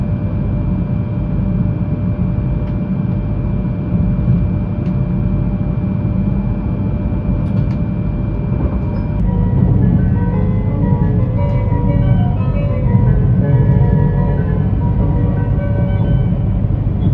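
The Tsubasa 171 Yamagata Shinkansen train pulls out of Yamagata station, a loud, steady rumble and hum that swells partway through as it gathers speed.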